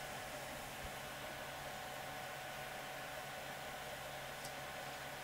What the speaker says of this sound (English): now I'll show you what it's like when the printer is actually going